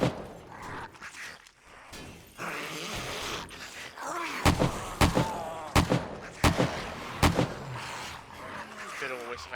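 Weapons firing in the zombie survival game 7 Days to Die, a run of about eight sharp, loud shots at uneven intervals over a steady game background, with someone talking earlier.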